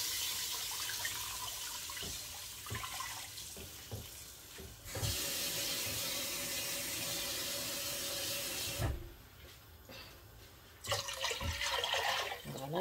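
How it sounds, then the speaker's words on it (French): Water poured into a pan where ground maize has been browning, a steady close splashing and hissing pour running almost continuously with short breaks, no talk. "Maintenant on va rajouter de l'eau."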